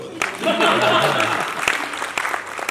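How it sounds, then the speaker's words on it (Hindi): Audience applause at the grand launch of a Zee TV show: a loud burst of clapping mixed with voices and cheering that thins out toward the end as separate sharp claps come through. "ताली बजाओ"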